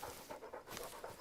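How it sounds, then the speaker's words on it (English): A companion dog in a hunting video game pants steadily in quick, rhythmic breaths, close and moderately loud, with a brief harsher burst partway through and no talking. "Pushy dog."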